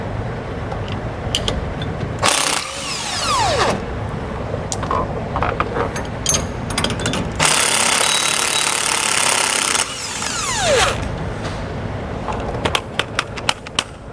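Impact gun loosening bolts on the leaf-spring suspension of a 2022 Grand Design Imagine travel trailer, several loud buzzing bursts of a few seconds each separated by quieter workshop noise.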